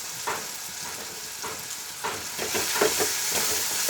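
Spice masala frying in oil for chicken kosha, a steady close sizzle with soft stirring scrapes that rises slightly in the second half.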